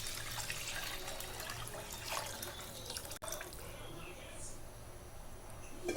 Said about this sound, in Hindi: हमने यहाँ पे कढ़ाई रख दी है, इसमें मैं दूध डालूंगी।